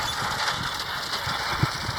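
A tractor engine runs steadily in a cleared farm field, a constant mid-pitched rumble with a few faint mechanical knocks and no talking.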